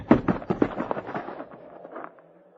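Rifle gunshots in a frontier radio drama crack out as a quick volley of sharp, loud reports near the start, then thin into fainter scattered pops and a fading echo.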